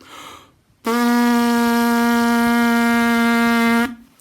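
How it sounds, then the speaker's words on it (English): A single steady buzzing tone from lips vibrating together, held for about three seconds, loud and close, with a raspy, reedy edge. "We need to take our lips and we need to buzz them together like this."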